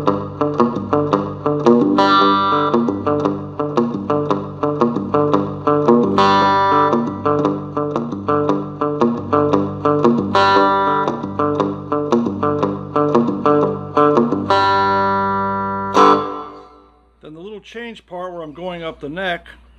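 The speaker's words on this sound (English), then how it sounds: "Now after I do that four times, what I'll do is I'll hit the last string open." A cigar box guitar plays a rockin' riff with a distorted, effects-laden tone, the pattern repeated several times in a steady chugging rhythm, then it ends on a ringing open last string; loud and close, no talk over it.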